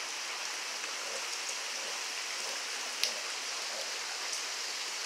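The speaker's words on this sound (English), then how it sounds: "It's been raining so much" Rain falling during a storm in a garden with a red banana plant, a faint, steady hiss of rainfall with a few sharper drips, distant and continuous throughout.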